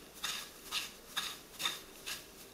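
Panko breadcrumbs seasoned with garlic powder and Himalayan salt are mixed in a bowl for breaded beef milanesa, five soft, evenly spaced scraping strokes of a utensil, close and fairly quiet.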